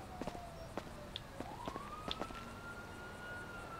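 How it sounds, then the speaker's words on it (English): Ambulance siren in the GTA V video game, a faint wailing tone that slowly rises and falls in the distance, with scattered soft game clicks and footsteps in the background. "I think that's an ambulance."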